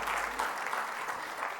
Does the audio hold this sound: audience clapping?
yes